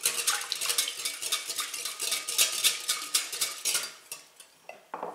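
An egg being whisked into bun dough in a bowl, a quick run of close, bright taps and scrapes of a utensil against the bowl that slows and thins out toward the end.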